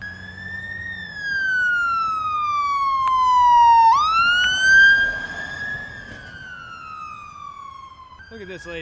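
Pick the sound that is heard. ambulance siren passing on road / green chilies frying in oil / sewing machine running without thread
ambulance siren passing on road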